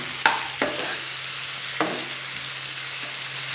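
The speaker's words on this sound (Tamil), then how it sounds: "ஆனியனை நல்லா வதக்கி விட்டுக்கலாம்" Onions sautéing in oil with fennel, cinnamon and cloves for a prawn thokku: a low, steady sizzle, broken by a few sharp clacks of a spoon against the pan.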